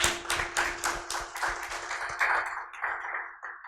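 Audience at a leadership and entrepreneurship event clapping, a run of distinct, fairly close claps in a brisk irregular rhythm that thins out toward the end, with no voices.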